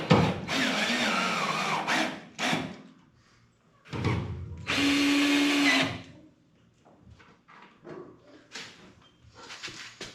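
A power drill drives new stainless screws into a Ford Torino body panel in several separate bursts, each a loud close whirr lasting a second or two, with quiet pauses between.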